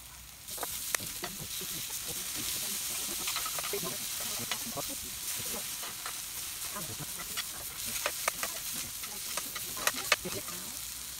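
Pork frying for kimchi fried rice sizzles loudly and steadily in a hot pan, with frequent clicks and scrapes of stirring on top.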